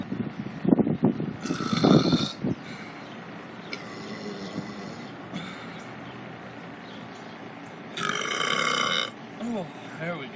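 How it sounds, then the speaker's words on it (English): A series of loud, drawn-out belches from a man, several long deep burps spread across the stretch with pauses between them, the loudest near the start and another long one toward the end. "I apologize for the belching in all of our videos."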